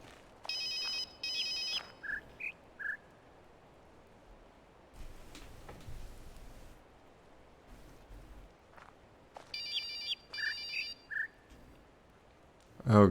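Telephone in The Witness video game ringing in two separate bursts of bright trilling rings, moderately loud, with soft footsteps and quiet ambience between them.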